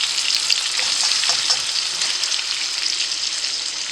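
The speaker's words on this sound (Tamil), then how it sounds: "இப்போ இந்த சிக்கன் வந்து அப்படியே ஃப்ரை ஆகட்டும்" Chicken pieces sizzle steadily in a hot pan, a dense, even crackle of frying oil with small pops running throughout, close and fairly loud with no voices.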